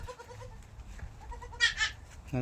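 On a farm in Saudi Arabia, goats and newborn kids bleat. A series of short, thin cries comes from nearby, and a louder, close bleat follows at the end over soft background noise.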